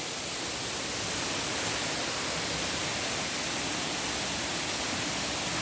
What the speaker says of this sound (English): Lumsdale waterfall.